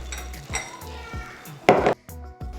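A metal pot is lifted out of a cooker and set down in a kitchen, giving a few clanks and clinks with a sharp scrape in the middle.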